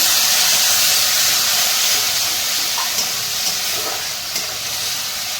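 Water poured over a frying spice masala paste with chilli powder sends up a loud, broad hiss of steam and sizzle that fades slowly, with a few soft clicks and no speech.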